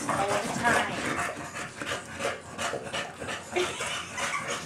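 Several bulldogs play together, panting hard with rapid breathy huffs and occasional whimpers and soft barks, close and fairly loud, with a person talking in the background at times.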